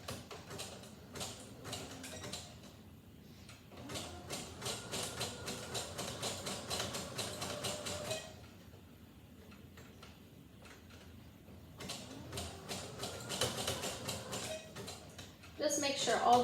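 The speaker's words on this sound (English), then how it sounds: "I'm going to come back over to my machine, and I'm using a 3 width and a 3 length zigzag, and take a couple stitches" A sewing machine zigzag-stitches fabric layers for underwear, running in rapid ticking bursts with brief pauses between runs and a louder clatter at the very end.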